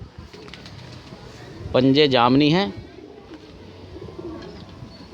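A pigeon with yellow eyes gives a short, loud throaty coo close by on a rooftop, about a second long, while someone talks before and after it.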